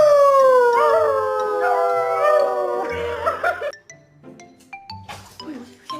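A big dog howls loudly and close up in long, sliding, wavering tones for about three seconds while scuffling at its own shadow, followed by sparse clinks and light scuffing noises.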